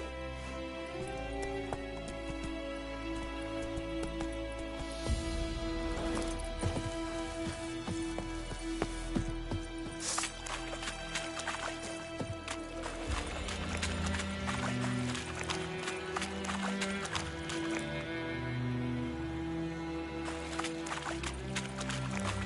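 Roach, a horse in The Witcher III, gallops with steady clip-clop hoofbeats amid dense game music and ambient rain-like noise, the hooves continuous and fairly close throughout.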